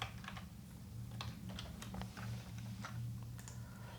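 Someone types on a computer keyboard, tapping out a steady run of light, separate key clicks over a low electrical hum, close and soft, with no talking.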